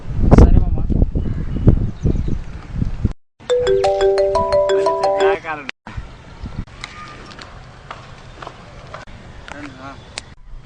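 A phone ringtone plays a short, bright melody of repeated notes after a voice is heard talking, followed by quieter talk and background bustle.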